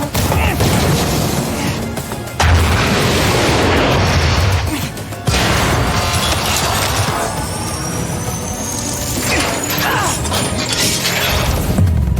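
A bomb explosion in the video game Apex Legends, heard as a loud, sustained crash and rumble with shattering debris that cuts out briefly midway and then roars on.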